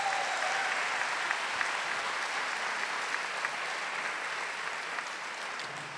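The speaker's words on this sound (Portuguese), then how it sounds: "E eu queria que vocês aplaudissem a Fazenda da Esperança." An audience at a Catholic gathering claps in a dense, sustained round of applause that stays steady and fairly distant, with no speech over it.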